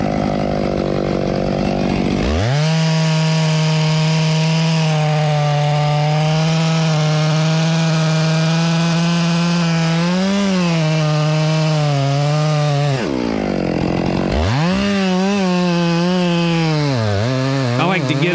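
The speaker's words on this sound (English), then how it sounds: "Right here, I'm cutting a veneer walnut log." A chainsaw cuts into a veneer walnut log with a steady, loud, close engine whine under load, dipping and revving as the cut changes, briefly easing back, then biting again.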